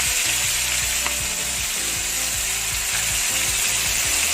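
Whole squid frying Korean style in hot oil over medium heat, a loud steady sizzle and crackle filling the scene, with faint low clatter and scraping beneath.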